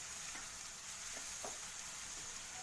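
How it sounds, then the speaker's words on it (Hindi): Onions fry in a pan toward golden for a peanut vegetable dish, producing a steady low hiss of frying with a few faint stirring scrapes, quiet and continuous. "इसे गोल्डन फ्राई होते तक भून लेंगे।"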